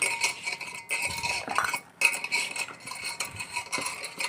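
A spoon stirring garam masala through a cauliflower snack in a metal pan, continuous close scraping and clinking with brief pauses, no talking.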